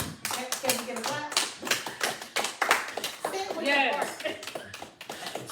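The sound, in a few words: audience clapping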